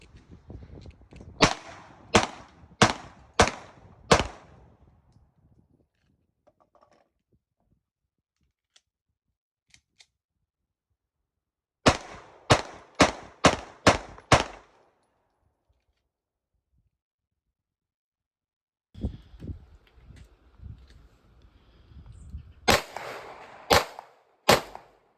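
A Glock 43X pistol is fired at a shooting range in three quick strings of five or six sharp, loud shots each, with silent pauses between the strings.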